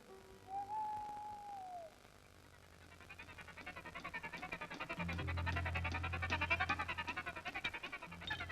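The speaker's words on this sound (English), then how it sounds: "There was no moon, and now and again, an owl hooted." A lone owl hoots once at night, a clear wavering call in a dark, quiet setting, followed by a swelling rhythmic warbling sound and low rumble.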